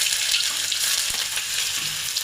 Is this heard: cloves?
yes